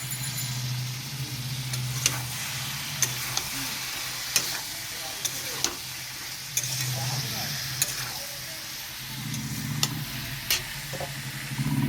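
Prawn curry sizzling and frying in a pan as tomato is added, a steady close hiss with sharp stirring clicks and scrapes recurring every second or so, no talk.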